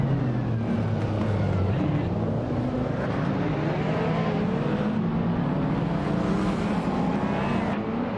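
Classic race cars, led by a 1985 Ferrari 288 GTO on pole, roaring off the start in a Group A race, a dense continuous engine drone with rising and falling pitches from several cars close together.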